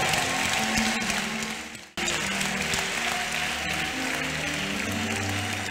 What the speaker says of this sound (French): The way in which you're clapping.